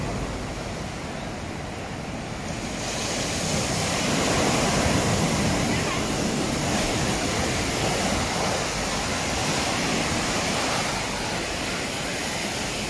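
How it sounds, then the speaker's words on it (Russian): Steady roar of ocean surf washing continuously onto Dalawella Beach in Unawatuna, Sri Lanka, broad and loud, with a gentle swell in intensity and no voices. "Тут вот такие красивенные волны."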